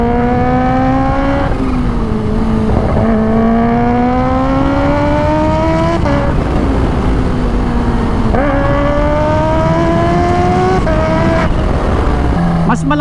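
A Kawasaki H2 with a titanium exhaust revs hard and close, its pitch climbing through repeated gear pulls with brief drops between shifts, and a supercharger whistle rides over the engine roar.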